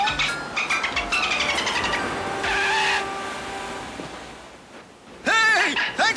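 Cartoon car tires squeal and skid in a string of short screeching bursts while doing donuts in a Mario game, followed by an excited voice shouting near the end.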